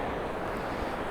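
Sea waves at Lunan Bay on a rough day with waves around 1.2 metres wash in a continuous low roar, mixed with heavy wind buffeting the microphone, with no voices.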